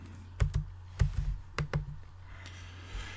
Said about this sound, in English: So I'm going to type in the equal sign, like all formulas, right?